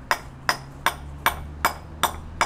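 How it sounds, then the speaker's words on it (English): A stone hammer strikes a chisel to cut a line into building stone for a wall, six or seven sharp, evenly spaced metallic blows in a steady rhythm, close and clear with no talk. "what he's going to do is chisel out kind of a simple line along the way to stress it"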